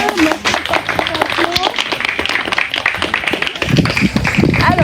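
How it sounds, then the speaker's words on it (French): Group applause for participants at the end of a hairdressing challenge, a crowd of hands clapping steadily and growing louder toward the end, with voices and cheers mixed in. "Bravo, vous pouvez vous applaudir."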